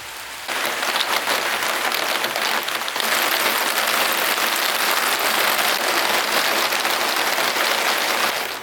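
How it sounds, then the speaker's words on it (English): Rain pours down in a city park in Bucharest after a spell of heat, a dense steady hiss of drops on surfaces that starts abruptly, swells louder after a few seconds and holds constant. "The rain is almost over."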